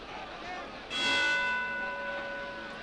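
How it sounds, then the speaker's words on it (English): A boxing bell clangs once to close the eleventh round of a professional heavyweight bout, its ringing tone sustaining and slowly fading over steady crowd noise. "And there's the bell to end the 11th round."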